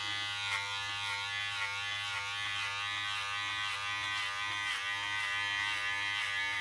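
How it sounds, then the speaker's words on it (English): Electric hair clippers buzz steadily at close range during a regular haircut trim, a constant high whine with faint irregular crackles as the blades cut through hair, and no one talking. "You can also hear when the clippers are actually cutting hair."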